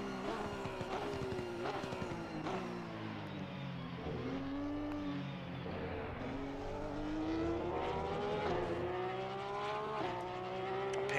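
Ferrari race car in a sim racing game at Monza, engine droning steadily with rising and falling revs through gear changes, continuous and fairly close throughout.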